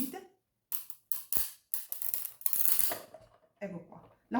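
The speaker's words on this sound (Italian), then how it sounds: "La fustella è passata ed ha fatto il nostro click." A Sizzix Big Shot die-cutting machine passing a die through, giving a few sharp clicks and snaps amid handling noises and pauses, close by with some quiet voice in between.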